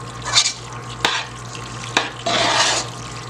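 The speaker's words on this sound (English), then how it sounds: "Stir it all in there." Macaroni pie mixture stirred in a pot, with intermittent wet scraping and mixing strokes, a couple of sharp knocks against the pot, and a louder stretch of stirring near the end.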